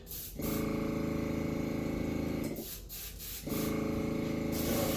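An airbrush sprays latex flesh-tone paint in a steady, close hiss, cutting off briefly partway through before resuming for a second long burst.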